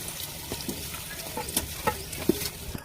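Chicken leg pieces with potatoes frying in a silver pot for handi chicken give a soft, steady sizzle, broken by scattered clinks and scrapes of stirring.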